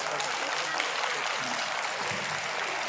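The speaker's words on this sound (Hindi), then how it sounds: "एक बार जोरदार ताली अपने लिए बजा रहे हैं।" Children at a school cultural fest clap together in a steady, dense round of applause lasting a few seconds, even in level and close.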